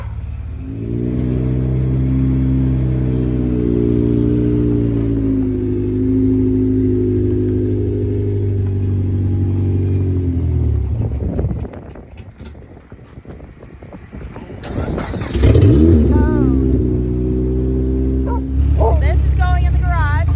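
A race car engine idling and humming steadily as the car is moved into a garage, with wind buffeting the microphone, a quieter break in the middle, and the engine returning.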